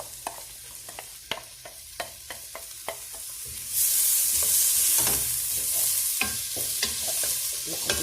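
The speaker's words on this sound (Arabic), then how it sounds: "نقدرها تقلي شويه" A spoon scrapes and stirs onion frying in oil in a pan for stuffed shawarma meatballs, with sharp close taps at first, then a loud steady sizzle swells midway and continues under more stirring clicks.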